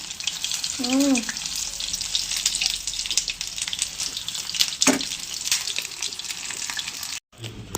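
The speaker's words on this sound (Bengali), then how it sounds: "এই যে দেখো, ফুলের বড়া ভাজা হচ্ছে, কুমড়ো ফুলের বড়া" Battered pumpkin flower fritters deep-fry in hot oil with a continuous bubbling sizzle up close, a brief voice near the start and a momentary cut-out near the end.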